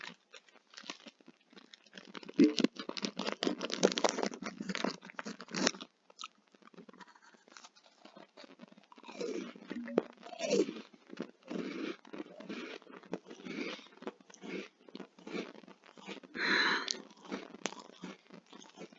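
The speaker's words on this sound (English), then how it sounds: "Je mange des granolas tout près du micro." Granola being eaten right at the microphone in ASMR style, with close, crisp crunching and chewing in irregular bursts for most of the stretch, separated by brief quiet pauses.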